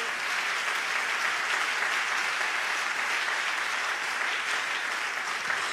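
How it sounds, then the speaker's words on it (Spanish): Steady, even applause from a church congregation fills the whole stretch with dense clapping at a moderate distance, with no break and no voice on top. "Dale un aplauso al Señor en esta hora."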